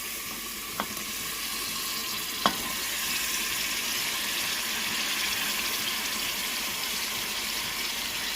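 Grated tomatoes fry in biryani masala in a pot, a soft continuous sizzle with a couple of sharp utensil clicks early on and no speech.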